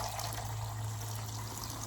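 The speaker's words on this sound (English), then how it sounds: "I'm about to put 8 cups of water in here for the cement." Water poured from a cup into a container for mixing cement in a garden, a steady broadband pouring rush with no gaps, close and moderately quiet, with a low hum underneath.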